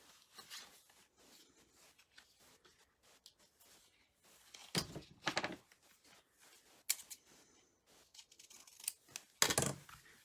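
Scissors snip and trim designer paper for a 4x6 Graphic 45 Ocean Blue mini album, a few sharp close cuts in separate bursts with quiet handling rustle between them.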